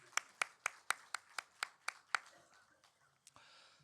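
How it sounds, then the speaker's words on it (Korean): Clapping rings out in a church service: about nine sharp, evenly spaced claps, clear and fairly close, before they taper into a few scattered claps and quiet room noise. "우리 다시 한번 축복의 박수 하십시다."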